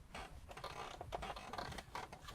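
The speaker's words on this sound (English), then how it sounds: "The seat's squeaking down there somewhere." Squeaking seat inside a used Jaguar F-Pace SUV, a run of small creaks and mechanical ticks at close range, fairly quiet and irregular with no talking over it.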